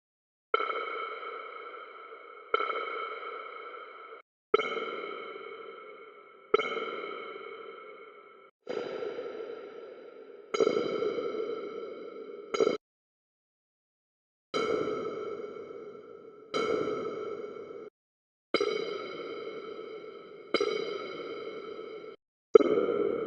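Waves Magma Springs Dark Space spring reverb plugin on its long setting, applied to about a dozen separate struck notes spaced with short pauses. Each note trails into a long, decaying metallic wash.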